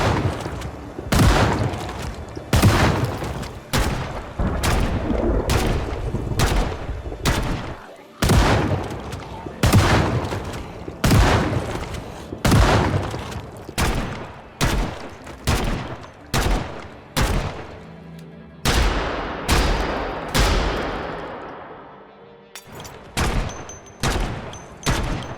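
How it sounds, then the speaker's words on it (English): Desert Eagle pistol fired repeatedly in the zombie survival game Project Zomboid, a long string of loud, punchy gunshots in rapid, slightly uneven rhythm with brief pauses, heavy and booming throughout. "Ooh, I love how meaty the deagle sounds."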